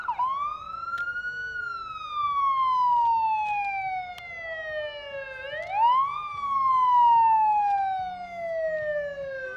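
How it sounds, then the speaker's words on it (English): Ambulance sirens from a British Columbia Ambulance Service vehicle in a Canada Day parade in Port Alberni sound loud and close, a long falling wail that sweeps back up midway and then drops again. "here come the sirens. The British Columbia Ambulance Service is here, making a lot of noise"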